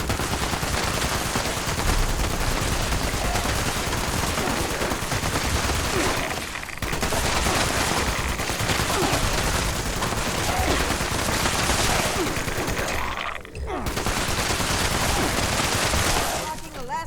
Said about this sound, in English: explosive ammo is so much fun